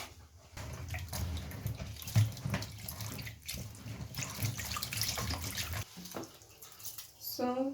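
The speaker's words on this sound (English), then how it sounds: "So I'm going to wash them." Broccoli florets rinsed under a running kitchen tap, with a steady stream of water splashing over them into a sink, fairly close and continuous for several seconds, ending with a brief clink.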